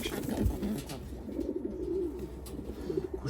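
Breeding pigeons of fancy breeds such as Modena coo together in a loft, a low murmuring chorus that keeps going throughout, fairly close and steady, with other faint bird sounds around it.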